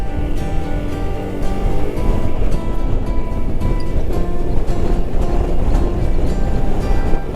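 Strong wind sweeps across a long suspension bridge in India that motorcycles cross, making loud, continuous roaring gusts that buffet the microphone without a break.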